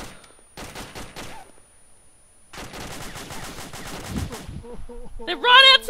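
Rapid bursts of gunfire in a military video game, with dense volleys of shots from about 2.5 seconds onward, loud and close, after an earlier burst and a brief lull; a voice cries out near the end.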